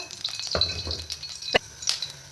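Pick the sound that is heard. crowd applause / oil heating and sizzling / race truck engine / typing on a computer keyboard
oil heating and sizzling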